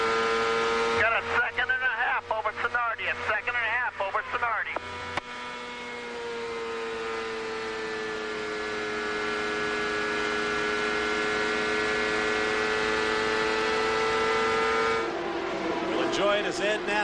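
Michael Andretti's CART race car at the 1998 Grand Prix of Miami, its engine note holding a long, loud, steady whine through the corner after a commentator speaks, then broadcast chatter returns.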